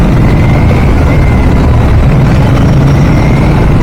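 An Aprilia scooter engine with a check-engine light runs roughly, a loud, steady low drone with a faint whine over it, heard close up and alone.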